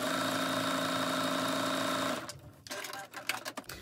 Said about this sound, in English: You just go ahead and make your quilting line so they're still about 1/4 inch apart.